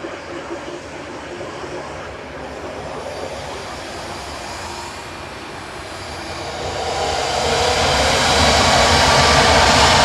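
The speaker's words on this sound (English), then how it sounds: "This is a 787-8 Dreamliner lined up and ready to go." A Boeing 787-8 Dreamliner departing for Mahon, a broad, distant jet engine rumble that holds steady and then builds louder over the last few seconds as thrust increases.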